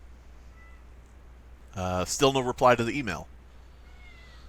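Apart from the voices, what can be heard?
pet cat meowing in the background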